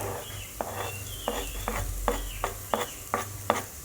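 Garlic and ginger go into a pan of sizzling onions already turned transparent, and a steady fry hiss runs under repeated spoon scrapes and stirring knocks at a moderate, close-up level.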